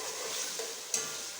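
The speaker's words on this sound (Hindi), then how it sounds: "प्याज़ों को अच्छी तरह ब्राउन कर लेते हैं।" Onions brown in a pan on a stove, giving a steady soft sizzle and frying hiss with a couple of faint stirring scrapes, close and even throughout.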